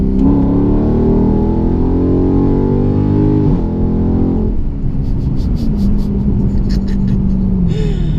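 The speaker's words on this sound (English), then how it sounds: "I'm gonna leave y'all with a nice little pull from third gear." A Scat Pack Dodge Charger with its mufflers deleted pulls hard in third gear, its loud, raspy V8 roar rising steadily in pitch, then dropping as the driver lifts off and the engine burbles on near the microphone.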